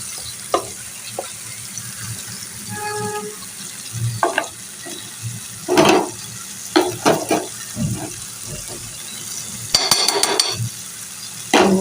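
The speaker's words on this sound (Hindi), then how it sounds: "अब इसको अच्छे से फ्राई करते हैं टमाटरों में।" Spiced meat frying with tomatoes in a pan sizzles softly and steadily, broken by stirring scrapes, clanks of utensils and a short burst of running water, close up with no talk.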